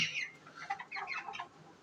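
Chickens cluck and call in short, close bursts over a backyard flock setting, a series of bright, choppy fowl sounds lasting under two seconds.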